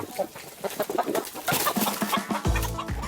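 Farmyard chickens, egg-laying hens kept by a couple, cluck in short close bursts, a loose stream of calls with a louder rustle near the end.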